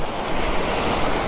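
Sea waves at the breakwater of Munambam beach in Kerala make a constant, full surf wash with wind rumble, loud and close, and no voices.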